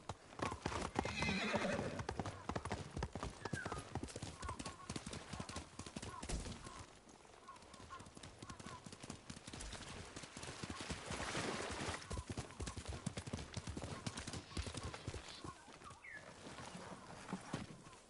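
Kage, a horse in Ghost of Tsushima, neighs loudly near the start, then hooves clip-clop in a quick steady rhythm across the whole stretch, with a voice speaking over part of it.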